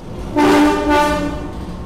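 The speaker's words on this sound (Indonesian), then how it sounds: "Nah, itu dia teman-teman, lokomotifnya baru saja dilangsir ya" Locomotive horn sounding during shunting at a station, two close loud blasts, a longer one then a shorter one, each with a clear harmonic tone, over faint background noise.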